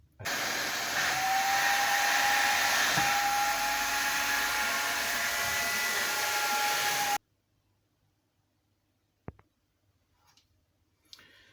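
A heat gun warming a Showa motorcycle damper tube during a rebuild, a loud steady blowing whine for about seven seconds that cuts off abruptly, followed by near silence with a couple of faint clicks.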